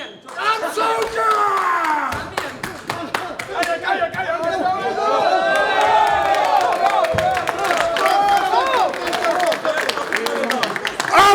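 A crowded, tense press conference for a GAMA Undisputed bare-knuckle fight between Melikian and Enibaev erupts in loud shouting and chatter, with scattered claps and cheers mixed through the din and voices yelling over it throughout.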